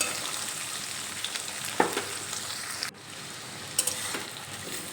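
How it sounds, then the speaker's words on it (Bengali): Potato pieces and onions sizzling in hot oil for an omelette curry, with a steady broadband fry broken by a few scraping stirs and clinks, close and moderately loud, with no one talking. "দেখো পেঁয়াজের মধ্যে আলুগুলো দিয়ে দিলাম, একটু নেড়ে চেড়ে নেব।"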